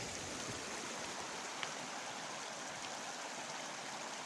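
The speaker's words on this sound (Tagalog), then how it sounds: "So nikusog na ang tubig padulong dito sa atoa." A strong stream of water flows steadily in a rural hillside setting, a faint, even hiss and rush with no breaks, distant and uniform throughout.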